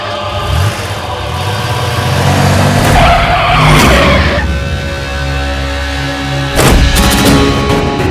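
A car skids and pulls away loudly at close range, its tires squealing and the engine roaring for several seconds, with a second burst of skidding near the end and no talk.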